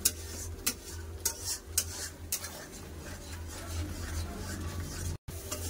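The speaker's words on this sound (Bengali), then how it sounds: "তেল ছাড়া পর্যন্ত এরকম চালাতে থাকবো, চালিয়ে কষে নেবো।" Masala stir-frying in oil for matar paneer: repeated scraping stir strokes of a spoon in a pan over a soft, steady sizzle, close by, with a brief dropout near the end.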